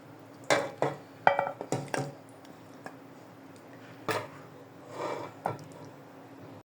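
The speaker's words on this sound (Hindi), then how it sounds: "तो अब हम इसको डिश आउट करते हैं" Pumpkin mutton curry (kadu gosht) being served into a dish: close, scattered clinks and scrapes of a metal spoon against a pot and serving dish, several sharp knocks in the first two seconds, then a few softer scrapes.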